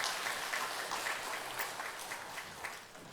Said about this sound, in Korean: 우리 교회학교를 위해서 격려하며 우리 다시 한번 박수를 좀 주시기를 바랍니다.